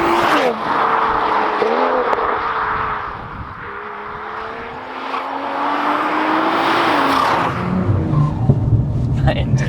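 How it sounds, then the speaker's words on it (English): BMW G42 M240i, tuned to around 450 bhp, pulls hard on the road with a loud, steady engine and intake roar whose pitch climbs and falls through gear changes, while people talk over it in the cabin. "That intake sounds awesome, it sounds great, doesn't it?"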